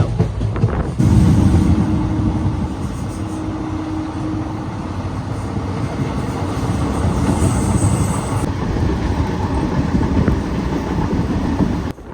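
A sleeper class train running at night on the route from Kerala to Goa, with a steady loud rumble and faint clatter of wheels heard from inside the carriage, no talk.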